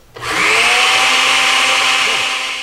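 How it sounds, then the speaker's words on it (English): Close, loud blender motor whirring steadily as it whizzes a Caesar salad dressing with Maggi seasoning, starting abruptly and holding one continuous whine for over two seconds. "I'm going to add about 3/4 cup of olive oil while the blender works in"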